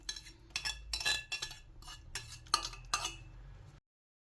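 A spoon clinks and scrapes against a pan or dish while spreading the last of the meat sauce over a layer of Italian lasagna, giving a run of soft, close taps and metallic clinks with no talking.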